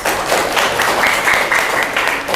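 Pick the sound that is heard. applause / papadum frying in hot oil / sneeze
applause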